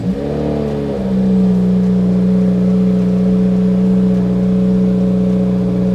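A car engine idles steadily after a cold start, its low, even hum holding constant and close with a brief rougher surge at the very beginning; no one speaks, and the car has a suspected oil pressure gauge fault.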